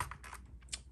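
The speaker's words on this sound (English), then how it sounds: "G513, which features the GX Brown slightly clicky keys" Rapid keystrokes on a Logitech G513 mechanical keyboard with slightly clicky GX Brown switches, a quick close-up burst of several light clacks with no voices.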